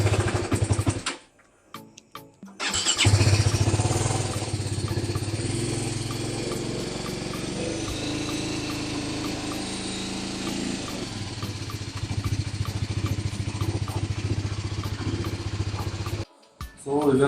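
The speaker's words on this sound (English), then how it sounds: "Let's see if the bike starts good" A BMW G310GS motorcycle, its battery just recharged with a Bosch C3 charger, cranks briefly and fires up, then idles steadily and close-by for over ten seconds before shutting off.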